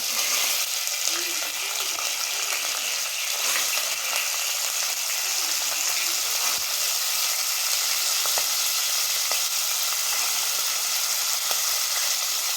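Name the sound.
field beans (avarekai) frying in oil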